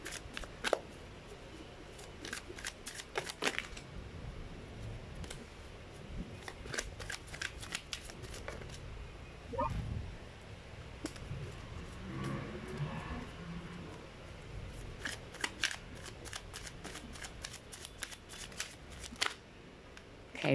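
A sticky deck of tarot cards is shuffled by hand in repeated riffling bursts of crisp card flicks, separated by quieter pauses, close and fairly soft.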